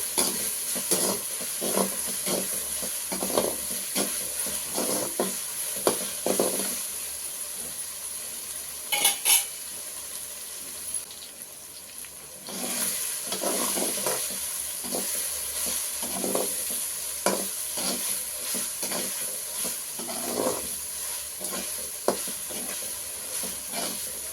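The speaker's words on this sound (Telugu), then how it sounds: "ఇది వేసిన తర్వాత పచ్చి వాసన పోయేంత వరకు బాగా వేగాలండి" Ginger garlic paste fries in a pan for a village-style prawn curry, a long steady sizzle broken by rhythmic spatula scrapes and metal clinks, briefly quieter midway, close up with no speech.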